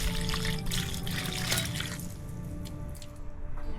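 Water pours and trickles from a bowl onto a desert tree, a steady splashing flow close to the microphone that gradually thins toward the end.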